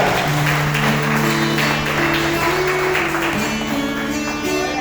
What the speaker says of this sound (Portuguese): Dê uma grande salva de palmas para Jesus, igreja.